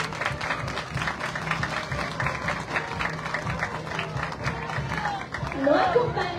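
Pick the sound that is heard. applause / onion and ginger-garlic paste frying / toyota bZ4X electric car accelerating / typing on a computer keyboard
applause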